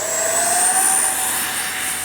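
A Freewing F-14A Tomcat RC jet with twin electric ducted fans flies past, giving a steady loud whining roar with a high tone that rises slightly in pitch, continuous and without talk.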